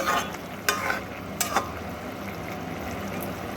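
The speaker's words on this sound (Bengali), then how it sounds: "আগে থেকে ভেজে রাখা মাছগুলো এর মধ্যে দিয়ে দেব দিয়ে একটু নাড়াচাড়া করে আবার এর সঙ্গে একটু মিশিয়ে নেব" Fried tangra fish stirred into a pot of boiling curry, a steady bubbling sizzle with a few brief scraping stirs near the start, close and moderately loud.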